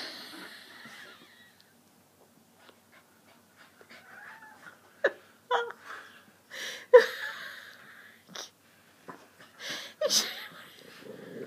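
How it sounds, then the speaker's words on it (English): A dog on a television whimpers and yips in short, scattered bursts, with quiet gaps between them and a few louder peaks toward the end, heard across an indoor room. "Stupid dog on TV there."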